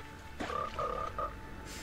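Frog croaking in a video game, a few quick, fairly quiet croaks in a short burst over a low background hum.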